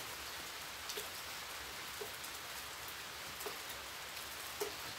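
Steady rain hisses down evenly, with a few louder drops tapping nearby now and then.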